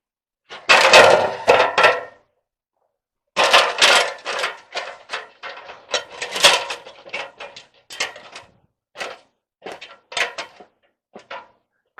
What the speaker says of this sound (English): Now I'm going to finish nailing the other ones.